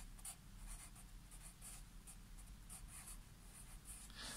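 Marker or chalk writing on a board during an English grammar lesson: steady scratchy strokes in short bursts across the whole stretch, close and fairly quiet, with no voices.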